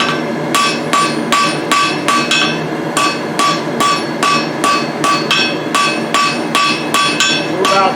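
A blacksmith hammers hot steel on an anvil, drawing down stock to make 3/4 inch box-jaw tongs, about twenty sharp ringing blows in a steady rhythm, loud and close with no talking.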